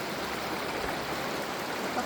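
A river at Pugo, La Union rushes in a steady, even broadband wash of flowing water, close and continuous, with no voices.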